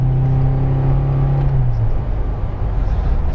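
A UAZ Patriot SUV with an automatic gearbox drives along, its engine holding a steady low drone over road rumble and tire noise inside the cabin. The pitch drops partway through, then settles into a continuous, fairly loud hum.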